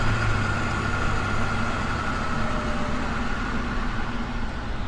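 A big truck idles close by in heavy traffic, its loud, steady low engine rumble and drone filling the whole stretch without pause.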